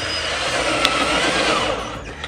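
An old handheld power drill runs steadily inside a VW T5 van being converted into a camper, a continuous close whirring hum with no pauses.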